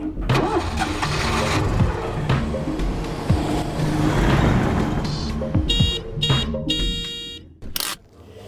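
A car engine cranking and catching, then a steady running rumble that swells and settles, with clicks and short electronic beeps near the end.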